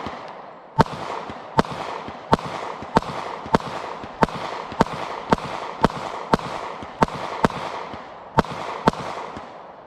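Fourteen sharp pistol shots from a Smith & Wesson M&P 40 fired at an outdoor range, evenly spaced about two thirds of a second apart with a brief pause near the end, loud and close.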